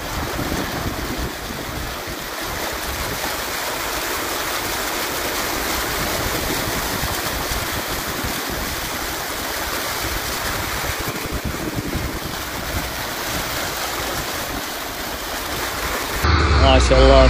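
Flash flood water rushing through a desert valley during rain in Saudi Arabia, a broad continuous roar of torrent and wind heard close and loud throughout.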